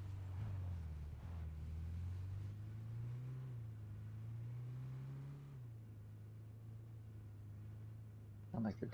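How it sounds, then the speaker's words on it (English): Engine of a vehicle in PUBG on PS5 rolls along as a steady low drone that rises slightly in pitch and then holds, heard at moderate distance under occasional game noise, with a brief clatter at the end. "I hear a car."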